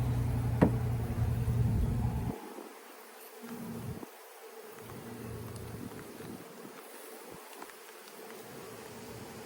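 Steady, close buzzing of many honeybees being removed from a section of power pole, a dense droning hum that carries on throughout with a few faint knocks.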